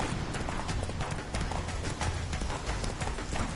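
Hooves of Roach, a horse in a video game, gallop in a fast steady clip-clop rhythm, loud and close over a rushing, noisy game background.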